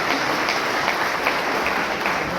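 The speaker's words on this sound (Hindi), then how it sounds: "एक राउंड ऑफ अप्लॉज तालियों की गूंज होनी चाहिए" At a Labour Department Shram Utsav event honouring workers, a large crowd applauds in a thick, continuous wash of clapping that holds at a steady level for the whole stretch.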